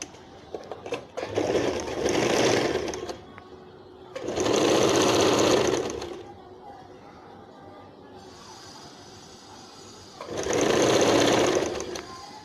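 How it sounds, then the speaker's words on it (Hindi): A sewing machine stitches salwar fabric in three loud, close bursts of fast whirring needle action separated by quiet pauses, with soft handling sounds and occasional talk between runs. "चलो इसको भी इसी तरह सिलाई कर लेते हैं।"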